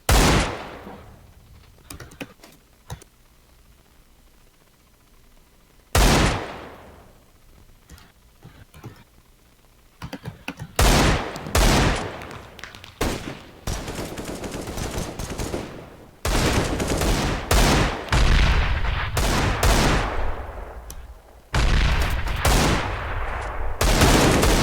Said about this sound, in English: Vadim getting the final kill on Joe with a newly picked up AK